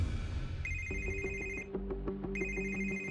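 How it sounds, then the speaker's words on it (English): A telephone rings with a bright electronic ringtone, a loud close melodic pattern of repeated tones that plays through a full cycle and starts again, with no talking over it. "I got a phone call"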